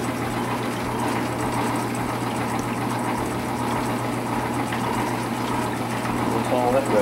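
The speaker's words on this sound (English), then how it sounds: "this thing be squirting water all over the shop" A leaking fitting in a steam room sprays water steadily, a constant gushing hiss over a low pump-like hum that holds through the whole stretch, with faint voices in the background.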